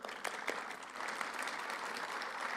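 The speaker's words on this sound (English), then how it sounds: "Let's give her a round of applause." Applause from a conference audience at a global education meeting greets UNESCO official Stefania Giannini, steady dense clapping with a few sharper nearby claps, continuous and moderately loud throughout.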